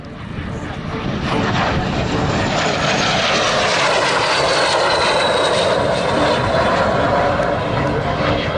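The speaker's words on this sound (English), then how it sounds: "That interesting jet sound sounds better than it is." A jet aircraft performing a display pass over the beach at the Southport Air Show 2022, a loud continuous roar that swells and holds with a shifting whine as it passes nearby.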